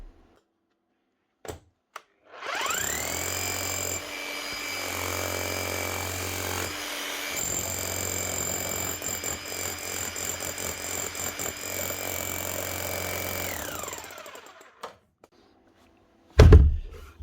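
A Bosch GBH 8-45 D rotary hammer drill, just repaired after a broken eccentric gear, spins up, hammers continuously for about twelve seconds, then winds down, followed by a brief sharp knock.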